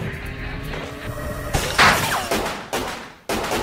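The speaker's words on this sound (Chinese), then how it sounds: "当队员们听到枪声后，" Gunfire in an action movie shootout, with several sharp bursts and cracks over a busy, dense soundtrack, loud and close.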